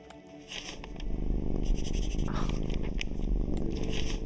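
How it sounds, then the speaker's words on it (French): Cat purring in the online game Star Stable Online, a continuous close rumbling purr with light scraping and patter layered over it, no speech. "J'entends bien le ronronnement du chat dans le jeu, c'est incroyable."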